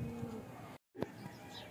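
Slate-grey paired racing pigeons give soft, low cooing calls at close range, faint and brief, broken by a short silent gap.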